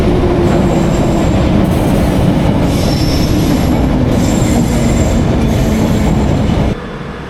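A London Underground Piccadilly line train runs with a loud, steady rumble of wheels on track, with faint squeals and clatter, continuous and close for about seven seconds before the noise drops slightly at the end.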